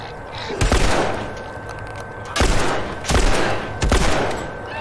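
Several heavy gunshot bursts in The Last of Us boom in irregular clusters, loud and close, with a noisy rumble between them.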